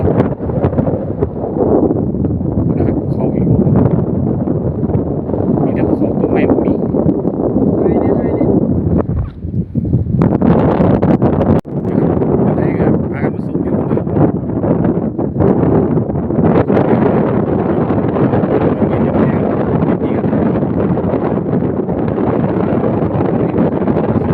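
Cool wind blows across a mountain in southern Israel, buffeting the microphone in rough, rumbling gusts that rise and fall, while someone talks intermittently through it.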